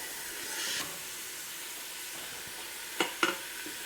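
Yellow onion and whole garlic cloves sauté in a pan with a soft, steady sizzle, broken near the end by two sharp stirring scrapes, close and fairly quiet.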